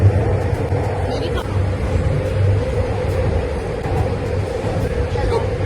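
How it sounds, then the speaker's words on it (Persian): A metro train carriage rumbles and hums steadily through a ride, with a low droning roar and occasional rattles while people talk over it. "سوار مترو شدیم"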